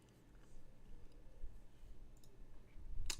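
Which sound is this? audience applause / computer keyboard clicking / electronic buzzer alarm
computer keyboard clicking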